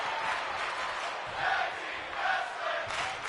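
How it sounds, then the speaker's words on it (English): A crowd at a tag team wrestling match chants in steady swells, a broad roar from many voices rising and falling in waves across the arena. "Crowd chanting for tag team wrestling."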